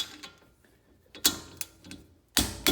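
A torque wrench set to 63 foot-pounds on a Porsche 991.2 rear brake caliper gives several sharp mechanical clicks at uneven intervals, with the loudest near the end, close and otherwise quiet.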